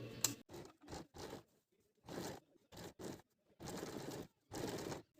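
A woolen salwar leg seam being stitched, with faint bursts of machine-like rattling that start and stop in short runs separated by brief quiet gaps.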